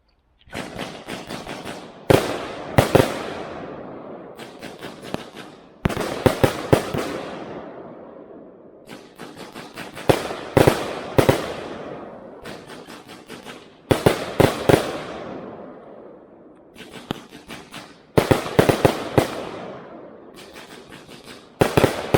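A Spluwa fireworks launcher fires a long sequence of loud, sharp bursts in clustered volleys, with crackling tails between shots and brief pauses between groups.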